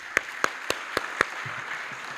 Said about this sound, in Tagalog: Atong palakpak.